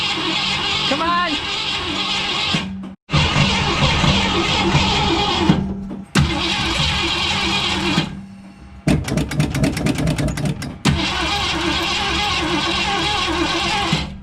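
A Ford Falcon engine that sat unused for 15 years cranks over in loud, repeated bursts, broken by short pauses, with rapid mechanical chatter near the end; someone talks briefly between attempts.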